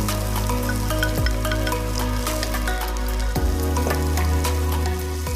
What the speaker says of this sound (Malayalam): ഉള്ളി ഒരു സൈഡിൽ മൂത്ത് വരും, തേങ്ങാക്കൊത്ത് അതിനോടൊപ്പം തന്നെ റോസ്റ്റാവും